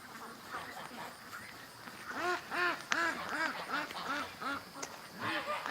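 Ducks quack in a quick series of loud, close, rhythmic calls that start after a quieter opening, with no talking.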